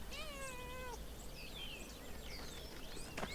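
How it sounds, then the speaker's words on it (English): A cat meows in the video game Pentiment, a clear drawn-out call with a wavering pitch, then a softer second call over a steady background of game ambience and birdsong. "Cat! Gotta pet the cat."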